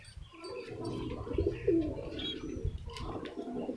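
Two pigeons coo softly and repeatedly nearby, low throaty calls overlapping with faint chirps in the background.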